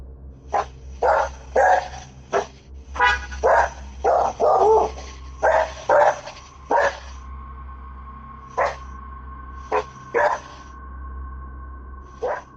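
Dogs barking at night, picked up by a Ring home security camera: repeated sharp barks in uneven bursts, fairly close, over a steady low hum, with a faint high tone in the later part.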